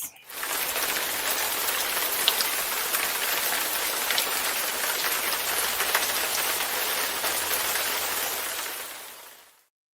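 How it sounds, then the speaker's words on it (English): Steady rain falls for about ten seconds, a dense even hiss of drops on a surface with scattered sharper patters, then stops abruptly. "it's raining"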